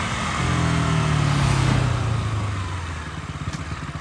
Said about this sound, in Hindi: निकल पड़ा जी मैं अपनी प्यारी सी बाइक पे बैंडेज लेने